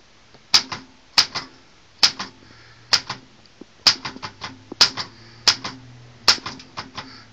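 Springy keys are typed while a camera is held, giving about a dozen sharp, close, typewriter-like clicks in an uneven rhythm with no talking.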